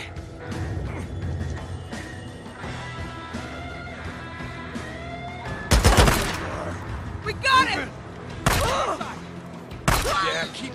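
Gunfire in the video game Days Gone: after a stretch of music and voices, several sharp bursts of shots crack out loud and close, separated by short pauses, with shouting voices mixed in.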